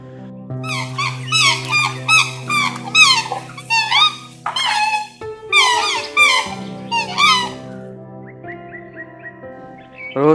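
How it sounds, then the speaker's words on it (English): Swan calls come as repeated bright, squeaky honking phrases in clustered bursts over a steady background tone of music, with no talking. "Swan."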